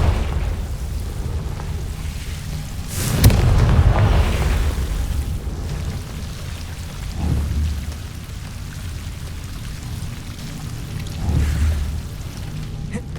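Confringo spell blasts in the Hogwarts Legacy video game, a few booming explosions with rumbling low tails spread across a steady background, the first strongest.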